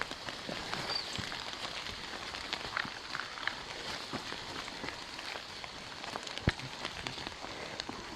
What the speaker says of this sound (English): Yeah, it's raining out here.